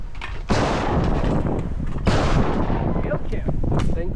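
Shotguns fire at a bird shoot, with two loud close blasts about one and a half seconds apart, each trailing off into open-air rumble and wind noise, while voices talk faintly.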